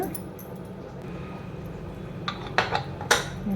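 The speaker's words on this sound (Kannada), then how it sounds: "ಕುಕ್ಕರ್ನ ಈಗ ಲಿಡ್ ಕ್ಲೋಸ್ ಮಾಡಿ 2 ವಿಷಲ್ ಹಾಕ್ಸ್ಕೊಳ್ಳೋಣ" The metal lid of a pressure cooker is closed on a stove while pongal is being made for Makara Sankranti, giving a few sharp metallic clinks and clacks over faint background hum.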